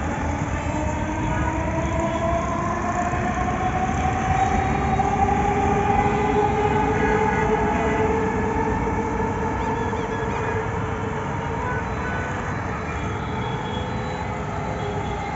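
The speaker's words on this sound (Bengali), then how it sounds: "এই মেট্রো রেল" A metro rail train rumbles past a roadside cattle market in Uttara Diabari, Dhaka, with a loud, sustained roar and rising and falling tonal whines from the wheels and motors.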